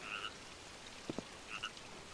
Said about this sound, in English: it lets me listen to the water flowing and the frogs